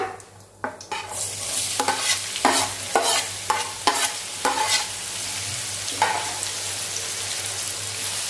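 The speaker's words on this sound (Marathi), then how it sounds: "आणि कांदा मस्तपैकी गुलाबी रंगावरती आपण परतून घेऊया" Onion fries with bay leaf, cinnamon, cloves and peppercorns in a pan. A spoon scrapes and stirs in a run of sharp, regular strokes over a constant close sizzle.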